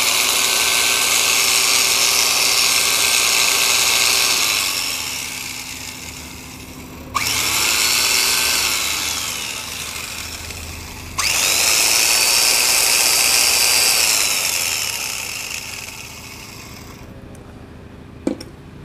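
Small used Japanese electric saw plugged in and run on test: a loud, steady motor whine in three bursts with brief dips between, ending with the motor spinning down.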